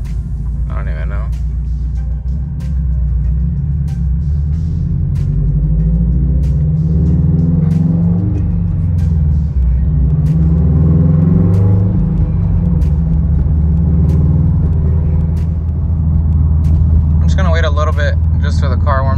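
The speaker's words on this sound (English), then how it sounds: "so you guys could hear how it sounds inside of the car" Low, steady engine rumble of a Subaru STI fitted with an exhaust valve, heard from inside the cabin while warming up, with a brief rising rev near the end and a person talking over it.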